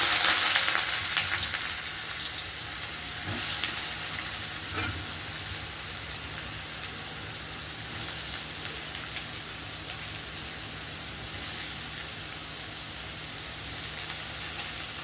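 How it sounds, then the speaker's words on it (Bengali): Onions frying in hot oil in a wok give off a dense, continuous sizzle, a steady rain-like hiss that holds at an even level throughout. "দেখো পেঁয়াজটা ভাজা হচ্ছে, ব্রাউনিশ হলে নামিয়ে ফেলবে।"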